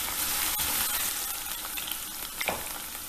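Potatoes fry in a hot pan for a raw papaya curry, a continuous close sizzle with occasional stirring scrapes and small pops, no voices.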